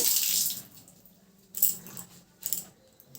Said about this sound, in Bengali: এবার আমি হাতটা ধুয়ে নিচ্ছি